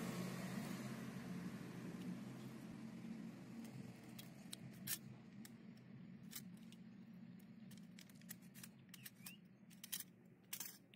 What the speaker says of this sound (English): Make a similar cut on the scion.